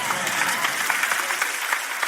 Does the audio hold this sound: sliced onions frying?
no